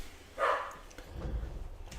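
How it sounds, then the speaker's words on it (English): A single dog bark near the mic, brief and moderately loud, followed by low muffled room noise. "Sorry my dog's barking so much this morning."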